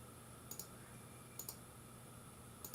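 Three pairs of faint, crisp mouse clicks sound over a low, steady room hum in a quiet setting.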